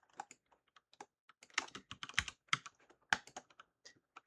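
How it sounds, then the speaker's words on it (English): Close-up clatter of keys on a computer keyboard, irregular bursts of quick taps with short pauses in between. "So I'm typing Geo2 and Geo3 in here."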